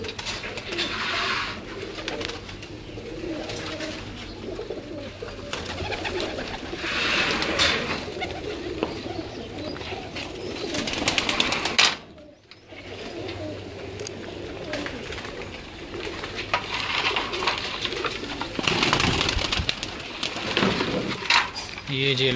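Pigeons coo softly and repeatedly in the background while someone talks over them, with occasional rustling and light clinks.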